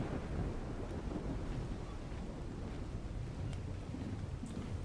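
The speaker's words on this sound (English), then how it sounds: "it's always thunder and rain and everything" Thunder and rain in the ARK survival video game, a steady broadband rumble of rainfall and wind with low thunder rolling throughout, continuous and fairly loud with no talk.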